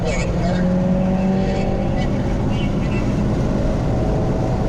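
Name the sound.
car accelerating on race track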